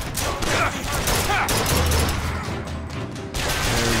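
Rapid bursts of gunfire from the video game Bioshock Infinite crackle close and loud in a dense, continuous volley lasting a few seconds, briefly easing before resuming.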